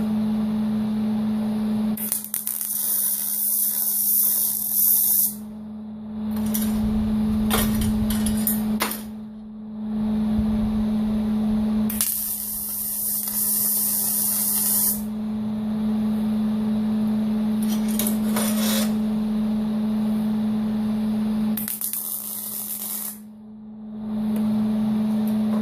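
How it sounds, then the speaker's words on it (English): Short bursts of MIG-style welding with shielding gas on a metal bender project, several crackling, buzzing runs of a few seconds each separated by pauses, over a steady electrical hum. "I'm just going to hit it right there with a little weld"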